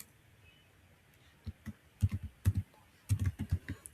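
Keystrokes on a computer keyboard as a name is typed, arriving as a quick irregular burst of close clicks after a brief quiet start, with no talking.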